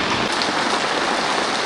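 Heavy rain pours down at a market in Banihal, Kashmir, a loud dense continuous hiss close by with no pauses.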